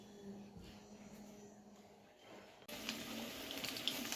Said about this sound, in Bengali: রান্না করব হাত তো ধুয়ে নিই